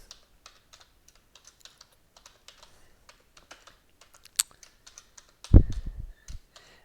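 Fingers tap out a new password on a computer keyboard in steady, quiet keystrokes, then a louder burst of clattering, thumping handling noise near the end, with no speech.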